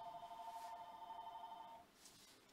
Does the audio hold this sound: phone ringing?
yes